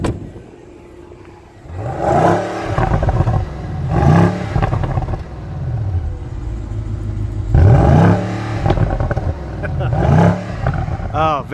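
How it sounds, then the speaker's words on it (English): A 2018 BMW M550i's exhaust is revved repeatedly outdoors, each loud roaring burst rising and falling in about four spaced blips, with people talking over and between the revs. "Go ahead and give it a little bit of rev there, Caroline."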